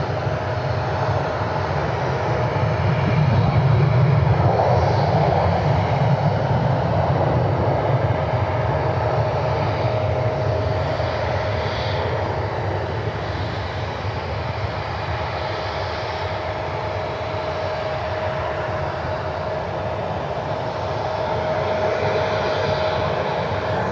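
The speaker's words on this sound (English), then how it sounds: "Well, good news for the Citation. They're finally cleared to take off" A Cessna Citation business jet takes off at Cleveland Hopkins airport, a sustained broadband roar with a thin steady whine that swells early and then holds, moderately loud and unaccompanied by talk.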